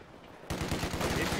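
Semi-automatic rifles firing in Company of Heroes 2, a burst of rapid, evenly spaced shots cutting in abruptly after a quieter moment of battlefield ambience.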